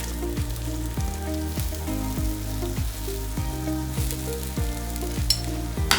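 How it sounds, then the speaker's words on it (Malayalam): Grated coconut fries in coconut oil in a pan, giving a steady, continuous sizzle that stays even and close throughout, with no voices. "ആ പാനിലേക്ക് വെളിച്ചെണ്ണ ഒഴിച്ച് നമുക്ക് തേങ്ങ കൂടി വറുത്തെടുക്കാം."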